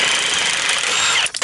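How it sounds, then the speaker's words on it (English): A Milwaukee impact wrench hammers at a completely rusted bolt with a loud, steady, dense rattling whir that cuts off near the end. No one speaks. "Here's a test of the Milwaukee impact, right? Got this completely rusted bolt right here."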